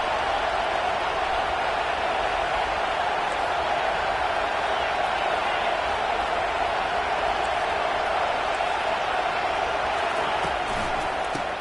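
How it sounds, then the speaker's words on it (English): Stadium crowd roaring for the defense on a big third down at a Kansas State college football game, a continuous distant wall of cheering noise holding steady throughout, with a commentator talking over it. "Big 3rd down as the crowd gets behind this defense."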